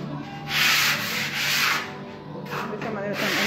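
Walls being sanded to prep a room for base paint, with several long abrasive rubbing strokes rising and falling in loud bursts and brief pauses between them; no talk.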